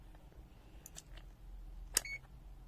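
An ANENG AN-V03B true-RMS multimeter in continuity mode gives a single short, sharp beep near the end, over an otherwise quiet background.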